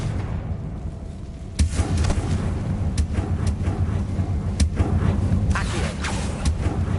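Confringo fire spell blasts in Hogwarts Legacy, sharp booming impacts repeating irregularly over a rumbling game background, several loud explosive hits in close succession.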